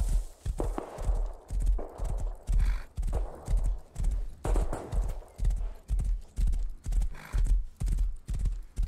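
Horse hooves in the video game Rust, with a steady rhythmic clip-clop of a walking horse, clear and close, each beat evenly spaced across the whole stretch.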